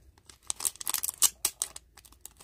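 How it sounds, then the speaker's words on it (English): Nail polish strip packaging is torn and crinkled open, a run of short, sharp rips and crackly rustles in quick bursts, close up and loud, with no one talking. "Then you open your nails if you can find a little thingy. If not, just use some scissors and cut."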